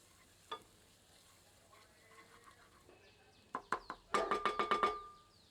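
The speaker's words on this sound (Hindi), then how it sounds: "सबको मिलाकर 2 मिनट मध्यम आंच पर भूनते हैं।" Snail masala with crushed chili and Kashmiri chili is fried in a pan over medium heat: quiet sizzling under a quick run of sharp metallic clinks from a ladle stirring near the end.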